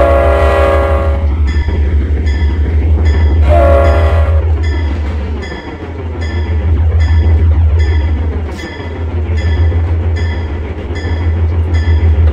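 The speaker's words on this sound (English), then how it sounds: "Hit the horn." Santa Fe locomotive horn in a train simulator game, two long loud blasts over a deep steady rumble of rolling rail cars with rhythmic clickety-clack.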